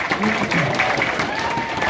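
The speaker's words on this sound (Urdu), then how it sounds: "اپنے لیے ذرا تالیاں بجائیے" An audience in a university hall applauds, a dense, steady wash of clapping that stays loud and continuous throughout.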